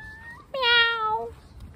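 A person imitates a cat with a single drawn-out, close, clear meow, following a brief bit of speech.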